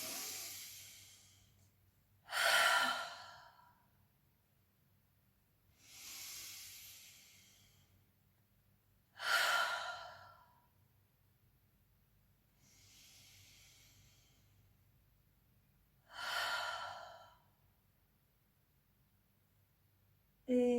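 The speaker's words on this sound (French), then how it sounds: "prenez 3 profondes respirations agréables" Three deep, slow breaths taken during a yoga session, each a long airy inhale followed by a broad hissing exhale, close and alone with quiet pauses between.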